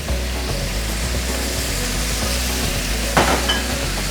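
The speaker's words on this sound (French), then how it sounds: "Toujours quand vous cuisez au wok, ça doit être fait très très rapidement." Red onions stir-fry in a wok with a loud, continuous sizzle and hiss, and one sharper scrape or toss near the end. No speech.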